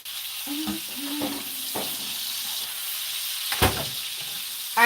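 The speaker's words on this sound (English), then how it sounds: "this is this butter browning" Butter browning in a pan, a steady sizzling hiss with a few scraping stirs from a utensil, close and fairly loud with no talking.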